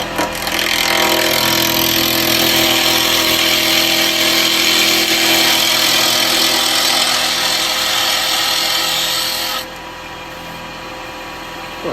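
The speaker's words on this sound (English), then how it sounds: "of course this is just all spindle turning at the moment because that's end grain" A wood lathe turns a rotten tree branch between centres as a tool cuts the end grain, giving a loud continuous scraping, whirring cut that drops in level near the end.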